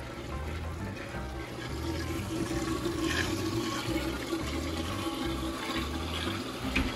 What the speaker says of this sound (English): The water starts flowing out there.